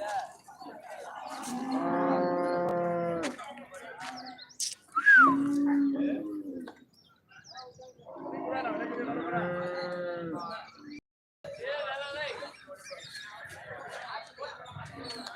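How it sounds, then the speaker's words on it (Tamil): Cattle at a bullock cart market in Thiruvonam give two long, loud, drawn-out moos a few seconds apart. A brief bird chirp and quieter pauses fall between the calls. "அருமையான மாடு வாங்கி கட்டியிருக்காங்க"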